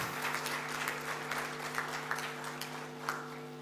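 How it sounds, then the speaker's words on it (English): An audience of architecture students claps continuously at an annual general body meeting, with irregular, close hand claps over a constant electrical hum. "A great round of applause to all of you."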